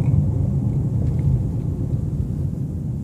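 A 2014 Dodge Challenger muscle car gives off a deep, steady engine rumble while driving, a loud low drone that continues throughout with no talking over it.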